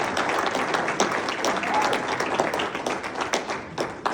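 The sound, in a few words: audience applause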